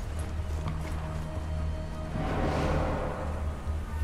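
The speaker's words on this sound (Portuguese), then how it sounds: "Só no passinho do cavalo." Hooves of a horse walking at a steady clip-clop pace in the World War II sniper game Sniper Elite 4 set in Italy, moderately close over continuous game ambience.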